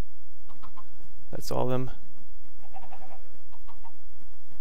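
A chicken clucks briefly and close in a video game, a short burst of fowl calls followed by quieter background sounds, with a voice speaking.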